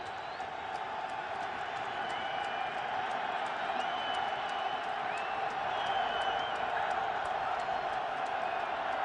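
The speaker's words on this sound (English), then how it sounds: "the crowd's going crazy" A packed football stadium crowd at a 2007 AFC divisional playoff between the Patriots and Jaguars roars steadily near the end zone, a sustained loud wash of cheering with scattered shrill whistles.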